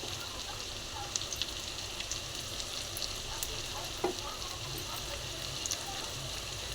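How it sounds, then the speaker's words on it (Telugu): Chopped onions and tomato frying in hot oil in a pan, giving a steady, even sizzle that runs unbroken from start to finish, with a few faint ticks and pops and no clear talking. "ఆనియన్స్ అనేవి కాస్త ఆయిల్లో ఫ్రై అయిన తర్వాత ఇప్పుడు నేను ఇందులో టమాటా వేసుకుంటాను"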